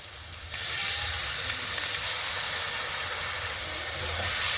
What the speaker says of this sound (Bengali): মশলাগুলো সব কিছু ভালোভাবে ভেজে নেব। অল্প একটু জল দিয়ে দেব।